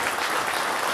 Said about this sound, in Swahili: makofi